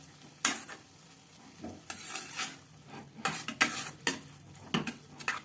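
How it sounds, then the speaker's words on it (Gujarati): Grated bottle gourd cooks in ghee for dudhi halwa, giving a soft steady sizzle broken by repeated scraping strokes of a spoon against the pan, close and fairly quiet, with no voices. "આ રીતે ઘીમાં એને પકાવવાનો દસ મિનિટ આ રીતે પકાવવાનું"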